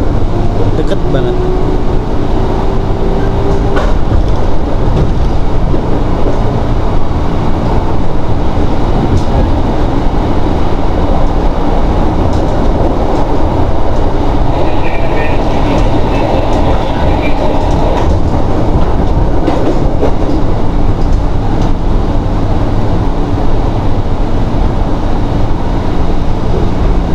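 KRL commuter train rolling toward Sudirman Baru station, a steady loud rumble of the railcar with rail noise throughout, and brief chimes or squeals partway through.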